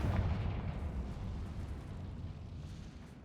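A deep rumbling blast from a Confringo fire spell in Hogwarts Legacy opens loudly, then a broad low roar fades steadily over about three seconds, with no talking.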